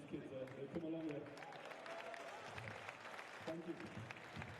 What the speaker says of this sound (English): can I get a nice round of applause for these kids?